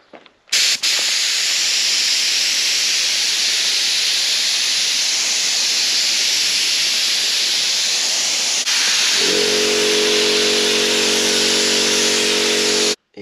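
Steady loud spray hiss as varnish is applied to chrome trim parts for a taxi-style car build, continuous and close, with a lower tonal motor hum joining in near the end.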